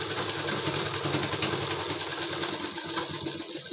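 A sewing machine runs steadily, stitching the round seam of a blouse sleeve, a fast even mechanical whir with rapid needle rhythm, close and continuous without talking.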